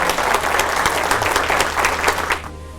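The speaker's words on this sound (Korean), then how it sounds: "박수 좀 쳐주시도록 하겠습니다" An audience at a seminar claps in a dense burst of applause for a few seconds, tapering off near the end.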